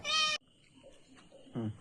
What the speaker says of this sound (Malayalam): മജ്ബൂസിന് കാത്തിരിക്കുന്ന പൂച്ചയല്ലേ ഇത്?